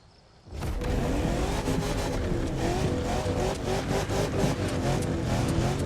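A Proto Buggy in The Crew Motorfest racing game starts up abruptly and holds a loud, continuous engine roar with rising and falling revs and some tire noise, steady throughout.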